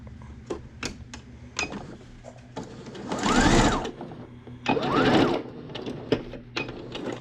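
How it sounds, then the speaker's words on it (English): Sewing machine stitching elastic onto a homemade adult face mask, heard as two loud bursts of rapid mechanical whirring separated by quieter ticking and handling clicks, close up with no talking. "Now I'm getting ready to sew the other piece on."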